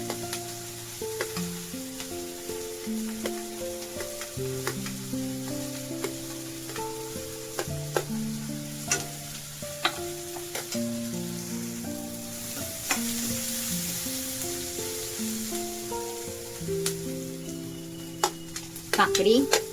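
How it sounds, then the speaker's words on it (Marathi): Capsicum, carrot and cucumber stir-frying in a pan over high heat give a steady sizzle and frying hiss throughout, with light stirring scrapes over a strong tonal musical background. "शिमला मिर्च टाकली, गाजर टाकली, काकडी टाकूया।"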